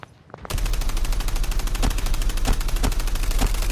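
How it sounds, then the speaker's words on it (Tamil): Rapid gunfire from a sniper in Call of Duty Mobile rattles out as a loud, continuous volley of close shots, with a few heavier cracks standing out at regular gaps. "மேல இருந்து ஒரு ஸ்னைப்பர் அடிச்சிட்டே இருக்கான்."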